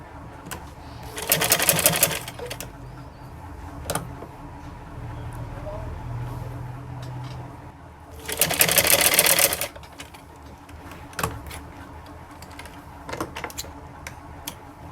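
Two bursts of sewing machine stitching along a marked line on kurti sleeve and trouser design pieces, each lasting about a second or two, with quieter handling clicks and soft background noise between them.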